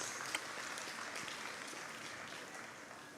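Steady, faint applause from an audience at a graduation ceremony, honouring faculty members, holding an even, dense clatter of clapping throughout with no voices over it.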